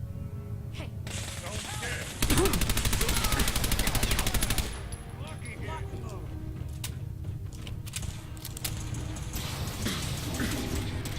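A Shredder minigun fires a long sustained burst during Fallout 4 gameplay, a dense rapid rattle of shots over a rumbling game soundscape, with scattered impacts before and after.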